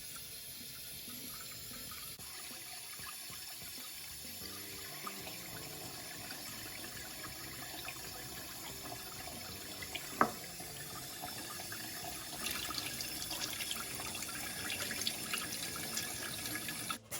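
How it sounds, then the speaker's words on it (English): Tapioca pearls (sabudana) being rinsed in a bowl under running water, a steady tap-and-sink wash that runs for the full stretch with one sharp clink partway through and a brighter splashing swell toward the end. "I'm just going to wash it 2-3 times just to get rid of some of the starch"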